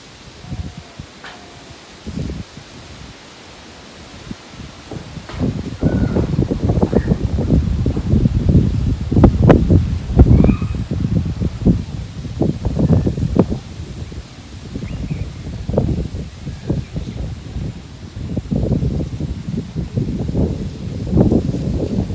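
Wind gusts sweep through rustling rice fields in irregular surges, soft at first and then louder and more continuous.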